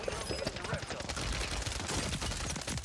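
Rapid gunfire in a solo-versus-squads video game shooter, dense bursts of shots crackling continuously at close range and loud throughout, with talk mixed in underneath.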